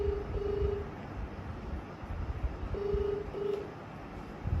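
A phone number being dialled for a prank call: a few short steady keypad tones, two brief beeps early and two more near the end, over a low background rumble.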